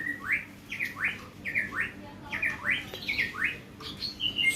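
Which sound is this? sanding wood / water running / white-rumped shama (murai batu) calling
white-rumped shama (murai batu) calling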